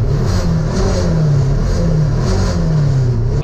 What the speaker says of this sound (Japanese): 今エンジンがやはりちょっと何か調子悪いのか